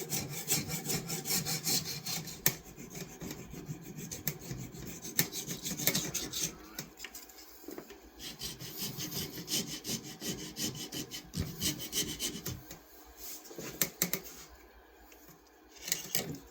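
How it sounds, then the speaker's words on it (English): Continuous rasping of a file worked back and forth along wood edges during a restoration, steady scraping strokes close up and fairly loud, with brief pauses near the end. "a less aggressive file, plus I want to start filing out that divot"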